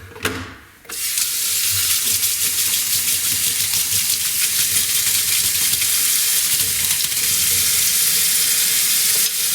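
A tap gushes back on after a brief knock, then a steady close hiss of running water pouring during the washing of an arcade monitor board, continuous and fairly loud.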